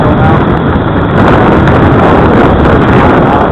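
Heavy wind roars across the microphone in a loud, constant rush outdoors while an RC Supercub plane flies in the gusts, with no talk over it.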